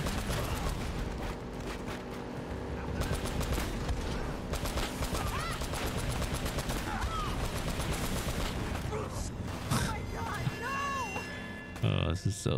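Dense, continuous gunfire and explosions from the Uncharted: Drake's Fortune video game, loud and sustained for the whole stretch with a busy mix of shots and effects, under a voice talking throughout.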